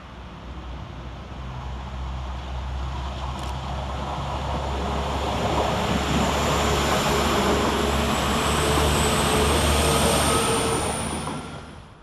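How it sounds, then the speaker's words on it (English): A Northern unit, 195130, rolls through Preston railway station. Its engine rumbles and its wheels roar in a broad wash that builds gradually, stays loud and close, then drops away at the end. "going in the other direction is 195130, working the 12:44 Northern service from Blackpool North to York via Bradford Interchange"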